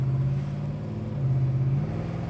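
A numbers-matching 1970 Plymouth Road Runner accelerates past an Audi, its engine giving a steady, close, mid-pitched drone with a slight rise in tone partway through, heard alone without talk.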